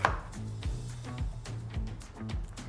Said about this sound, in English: I cut them just like this in little quarter pieces